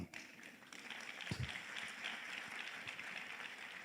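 Audience at a university special lecture breaks into scattered, moderate applause, continuing steadily for a few seconds after a brief thump.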